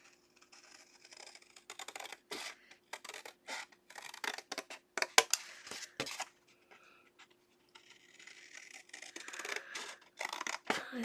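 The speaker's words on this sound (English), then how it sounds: "I take my scissors and I'm going to cut off all the corners" Scissors snip through the corners of a handmade paper explosion box for Valentine's Day, a close, irregular series of short, crisp cuts and paper scratches with brief pauses between them.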